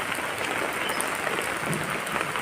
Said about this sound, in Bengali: প্রচণ্ড পরিমাণে বৃষ্টি হচ্ছে আজকে এখানে।